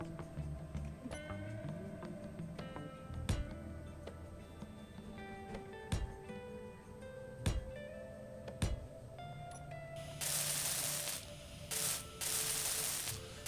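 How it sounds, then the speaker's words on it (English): In a Space Engineers base, welding tools buzz and grind in a steady close-up drone, punctuated by sharp ticks and clicks, with a harsher hissing burst of welding near the end. "A little weld in here."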